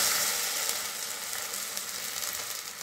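A little water poured into a hot pan before adding spinach paste for a creamy palak soup, sizzling loudly and steadily throughout, a dense bright hiss that eases only slightly toward the end.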